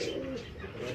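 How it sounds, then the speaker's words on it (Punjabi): A pet pigeon of a prized breed gives a soft, low cooing call, close and continuous for a moment. "ਇਹ ਵੀ ਉਹਨਾਂ ਦਾ ਸੰਭਾਲਿਆ ਹੋਇਆ ਸਾਡੇ ਕੋਲ ਕਬੂਤਰ।"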